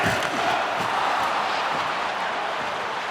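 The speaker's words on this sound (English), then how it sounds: "you can feel the energy in this crowd" A roaring arena crowd in the NHL 25 hockey video game, during a tied late period of a Maple Leafs vs. Senators Stanley Cup playoff game, a dense steady wash of cheering and noise throughout.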